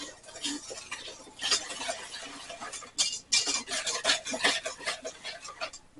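Buttermilk being stirred into cake batter for a cinnamon sugar apple cake, a steady wet scraping and swishing of a utensil in a bowl, close and continuous with brief pauses.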